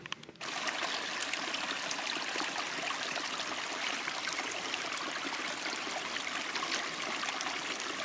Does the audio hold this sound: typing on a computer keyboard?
no